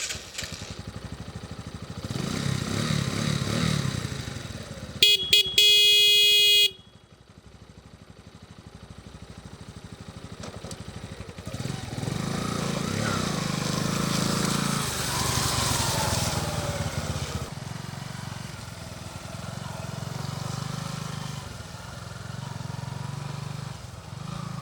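Bajaj Boxer 150cc motorcycle engine running through a long stretch, a steady mid-pitched drone that rises and falls with the throttle, interrupted near the start by a brief sharp high tone and a short drop.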